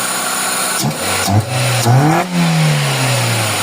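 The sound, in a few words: car engine revving with low power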